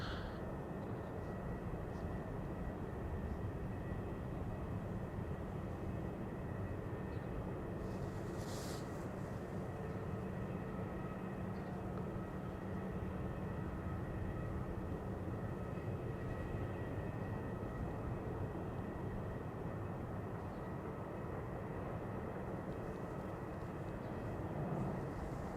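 Jet airliner engines roar steadily during a takeoff from the center runway at Amsterdam Schiphol Airport, a continuous loud broadband rumble heard from close range, holding at near-constant level throughout with no talk.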